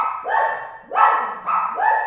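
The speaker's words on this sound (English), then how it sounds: "Sorry, it's my dogs." Dogs bark loudly and close by, about four sharp barks in quick succession with short gaps between them.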